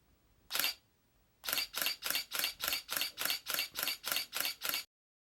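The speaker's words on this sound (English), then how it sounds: "We'll take a listen to the shutter sound now." Shutter of a Canon EOS 450D (Rebel XSi) digital SLR camera firing, first with a single crisp release and then with a rapid, evenly spaced burst of about twelve mechanical clacks. The clacks are close and clear against near silence.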